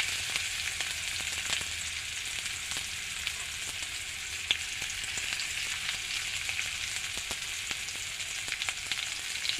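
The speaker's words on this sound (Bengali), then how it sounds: "এবার আমি পেঁয়াজগুলো ভেজে নেবো।" Onions fry in hot oil in a wok, giving a steady, even sizzle with scattered small pops and crackles throughout, close and alone without any voices.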